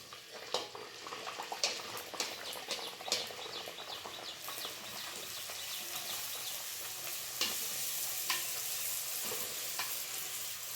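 Pooris fry in hot oil, a continuous crackling sizzle with bursts of sharper popping and spattering, moderately close and steady, with occasional louder crackles as more dough goes in.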